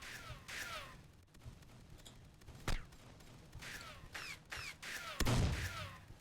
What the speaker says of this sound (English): somebody's shooting me from behind